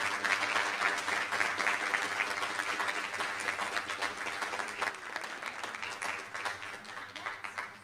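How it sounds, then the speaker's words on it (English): Sustained applause from an audience at a school board meeting honoring elementary school student artists, dense steady clapping throughout that thins slightly toward the end. "So one more big round of applause for everybody."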